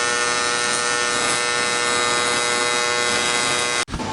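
TIG welder working on a wheel repair gives a steady, loud, close electric buzz that runs without a break and then cuts off abruptly near the end.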